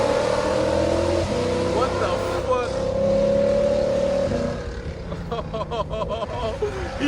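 A supercharged 855 hp Lexus RC F accelerates hard on a mountain road, its engine note rising steadily and loud for several seconds before dropping away, with excited voices talking over it.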